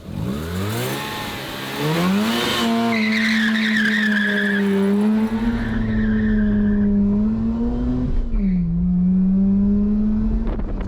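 A car with a freshly rebuilt rotary engine launches hard, engine screaming up through revs as tires squeal loudly and continuously, close by, with a brief dip and rise in pitch near the end.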